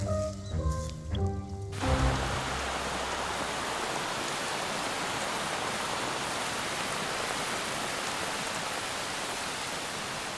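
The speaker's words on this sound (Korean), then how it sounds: "비는 습지의 생명들에게 활력을 불어넣습니다." Steady rain falls over a wetland on a forested volcanic cone on Jeju, a soft even hiss that fades in as a few musical notes die away, then continues alone at a gentle, constant level.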